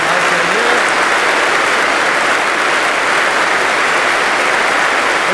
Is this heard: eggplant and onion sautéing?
no